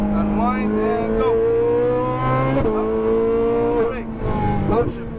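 A Ferrari 458 Italia V8 on a race track, loud and close, rising through repeated revving pulls with brief drops at gear changes, while an instructor talks over the engine.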